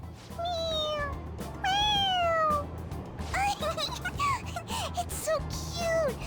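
Several drawn-out, rising-and-falling cat meows from a Persona video game, a few close together, over a low steady hum, with other sounds mixed in between the calls.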